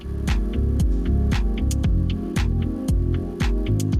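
A 3D printer runs steadily with a loud humming drone and stepper-motor whine, its tones stepping up and down in a regular rhythm punctuated by sharp clicks, with no talking.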